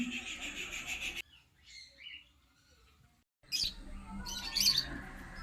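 Green-cheek and yellow-shaded conure parrots squawk and chirp in short harsh bursts, loud and close, separated by a brief near-silent gap.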